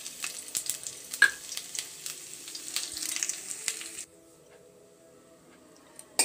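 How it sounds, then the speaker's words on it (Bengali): A bay leaf, dried red chillies and cumin seeds go into oil heated on a low-medium flame for a Bengali dal tempering, giving close, crackling sizzle with sharp pops for about four seconds before it drops to near silence. "এখন ফোড়নের জন্যে একটু তেল গরম করে নিয়েছি, আঁচ রেখেছি লো মিডিয়াম, ফোড়ন দিয়ে দিচ্ছি"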